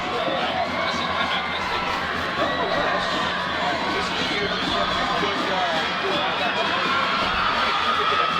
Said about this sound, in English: So now the Colonia crowd erupting